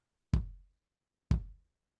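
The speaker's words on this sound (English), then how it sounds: "like a slightly more acoustic sounding kick," Two isolated kick drum hits with a slightly acoustic character, layered over a processed Lindrum kick in a studio mix, each a deep punchy thump with a short decay and about a second between them, no voices.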